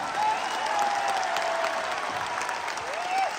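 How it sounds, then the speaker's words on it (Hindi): Sustained audience applause at a public event in Delhi, dense and steady throughout with a crowd murmur, a faint whistle-like tone gliding across it. "तालियां,"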